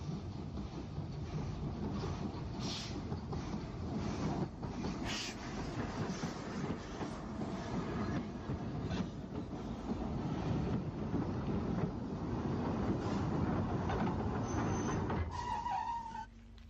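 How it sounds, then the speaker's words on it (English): An Isle of Wight Railway steam tank locomotive, No. 26, comes off shed at St John's Road in 1950s–60s archive footage, giving a steady, close mechanical rumble with wind buffeting throughout and no speech. "Number 26, Whitwell, comes off shed at St John's Road."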